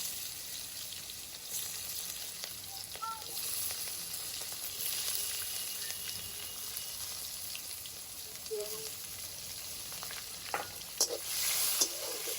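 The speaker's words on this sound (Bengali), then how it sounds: "গোটা গরম মশলা ফোড়ন দিয়ে দিলাম। এটা একটু ভাজা ভাজা হোক।" Whole garam masala spices frying in hot oil, a quiet, steady sizzle that crackles on without pause, with a few faint clinks near the end.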